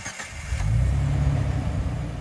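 A 2005 Jeep LJ with a 4-liter engine and six-speed manual crawls over off-road terrain, its low engine rumble steady and close for the whole stretch, rising slightly as it pulls.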